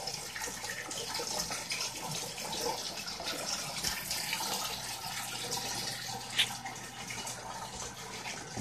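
Water pours steadily through the overflow drain and basic return of a cheap secondhand breeder aquarium, a constant broadband rushing and trickling close by with no talk.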